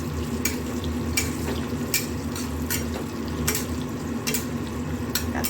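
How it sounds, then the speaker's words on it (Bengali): Cashews and raisins fry in oil for a pointed gourd pulao, a steady close sizzle broken by light scraping clicks as they are stirred, with no talking. "এই কটা কাজু আর কিশমিশ একটু নাড়িয়ে চাড়িয়ে ভেজে নেব।"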